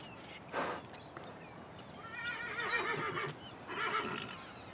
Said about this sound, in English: These Breton cart horses are his distant cousins.